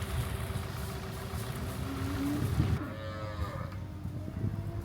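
Several Holstein calves moo repeatedly at a farm, loud and close, their calls overlapping against a steady low rumble that sounds like an idling engine.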